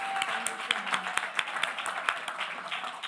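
A crowd at a Martin Luther King Day event claps in sharp, scattered bursts, a moderate spatter of applause with a few distinct hand claps standing out.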